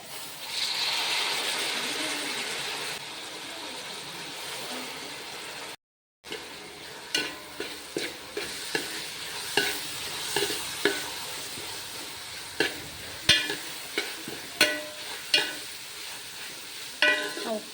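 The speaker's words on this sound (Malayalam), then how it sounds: "ഉപ്പ് എല്ലായിടത്തും പിടിക്കാൻ വേണ്ടിയിട്ട് ഒന്ന് മിക്സ് ചെയ്താൽ കേട്ടോ" A spoon stirs salted beef curry masala in a pan, with a sizzling hiss early on and then a run of sharp scraping knocks against the pan.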